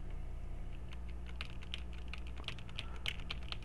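Computer keyboard keys tapped while playing NetHack, a quick, uneven patter of clicks over a steady low hum, close and fairly quiet.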